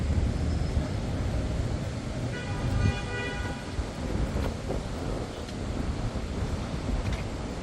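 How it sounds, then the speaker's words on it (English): Strong wind roars steadily along a New York City street near Vandam and Hudson Street, with gusty broadband rushing and faint passing traffic or a distant mechanical tone underneath. "it's really windy today."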